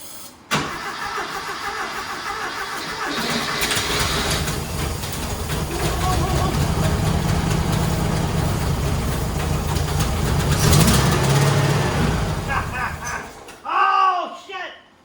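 A turbocharged Porsche engine in a rat rod cranks and fires up, then runs with a steady, rough rumble that swells briefly before cutting off; a voice speaks near the end.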